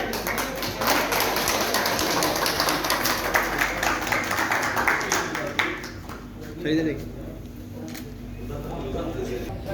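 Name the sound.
applause welcoming Beg Sahab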